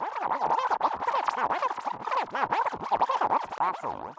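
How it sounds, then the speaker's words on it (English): Continuous warbling, swooping synthetic sound like rapid back-and-forth DJ scratching, made with delay processing in Max for Live, fairly loud and steady, with no voices. "something like a DJ scratch effect"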